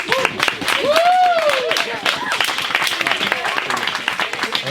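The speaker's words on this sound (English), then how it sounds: "Big round of applause for the parents of our bride, Pam and Steve Swanson" Wedding guests applauding the bride's parents, a short burst of clapping from a crowd mixed with cheers and voices.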